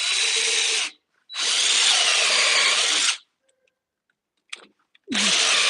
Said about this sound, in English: That's one thing about drilling freehand sometimes. Sometimes the drill can wander as you're drilling.